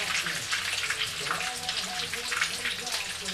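Scotch eggs fry in a shallow pan of oil, giving a steady close crackle and sizzle with fine popping that runs unbroken throughout.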